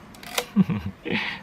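A short mechanical click-clack of a Yashica Electro 35 camera shutter at f/5.6, followed by a softer second sound a moment later, close and fairly loud.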